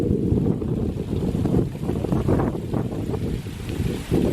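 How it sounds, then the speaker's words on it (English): Strong nighttime wind gusts of roughly 30 to 40 mph buffet the microphone outdoors, a loud, rough, rumbling roar that swells and dips continuously with no speech. "We're getting some gusts that are probably 30 to 40 miles an hour right now."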